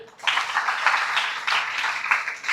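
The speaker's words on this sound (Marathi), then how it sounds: "त्याच्यासाठी एकदा जोरदार टाळ्या" Audience applause at a Solapur youth organisation's student event, a broad steady wash of clapping that swells in waves and carries on through the whole stretch without talk.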